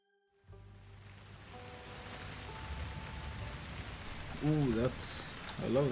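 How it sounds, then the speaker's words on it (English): Steady rain ambience in the Tavern Talk video game, a soft continuous hiss of falling rain that builds gently, with a person speaking over it in places. "Ooh, I love that rain noise."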